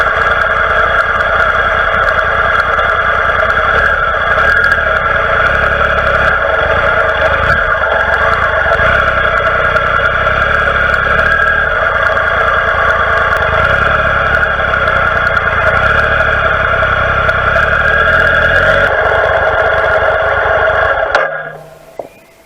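A heavy Triumph Explorer motorcycle with its luggage removed climbs a rough off-road slope, its engine droning loud and steady for about twenty seconds before cutting out abruptly, leaving near silence.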